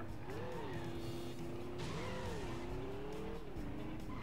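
Engine of a car in the stunt-driving video game Stuntman revs in rising and falling swells with a sustained tire squeal, loud and close throughout, with a brief skid partway through.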